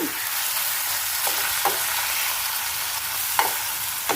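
Ridge gourd, already cooked in milk, sautés in a pan with a dense, even sizzle and occasional short scrapes of a spatula at spaced intervals.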